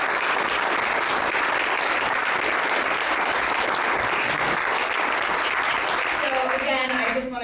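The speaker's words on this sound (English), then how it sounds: "I'd love for you guys to give a round of applause for the people that have supported you." A demo day audience applauds at Blackstone, a dense, steady roar of clapping from a large crowd that holds throughout and only begins to thin at the very end.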